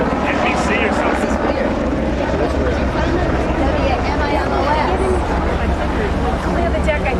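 A helicopter flies overhead in windy conditions, its continuous loud rotor and engine roar filling the whole stretch while people talk excitedly underneath.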